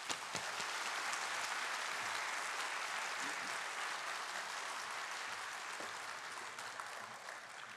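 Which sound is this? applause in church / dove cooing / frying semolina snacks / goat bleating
applause in church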